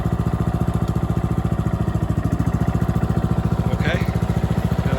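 A Cushman Ransomes Ryan Bobcat mower with a faulty drive system runs loud and close, its engine holding a fast, even pulsing idle as the drive belt engages, with no clear change in the sound.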